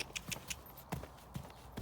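A horse trots over raised trotting poles, its hooves landing in a steady, evenly spaced clip-clop rhythm of sharp thuds close by, with no voices.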